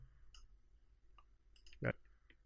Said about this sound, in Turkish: Klavyeyi alt tuşuna basıyorum.